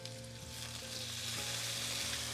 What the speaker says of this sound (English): So we're adding in some oil and then our steak. You hear that?